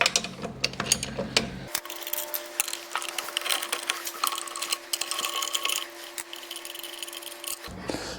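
Lug nuts coming off a Suburban truck wheel: a rapid ratcheting, rasping mechanical clatter that runs steadily and close for most of the stretch, with a constant hum behind it and no talk.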